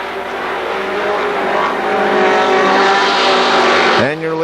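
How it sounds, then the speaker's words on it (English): A loud pack of stock race cars roars around Kil Kare Speedway at the Labor Day Championships just after the green flag, a dense sustained engine drone with a sharp pitch drop near the end as cars sweep past. "Green flag, we are racing."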